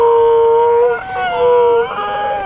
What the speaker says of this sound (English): There's like 4 howler monkeys and they make the craziest noise ever.